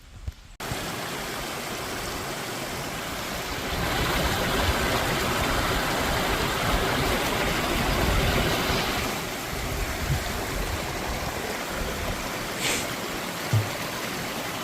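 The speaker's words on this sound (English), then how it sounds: "She comes right out of the ground up a ways, and it's just flowing down to the lake" Spring water running out of the ground and flowing down toward a lake, a steady outdoor trickling rush that swells slightly in the middle, continuous with no talk.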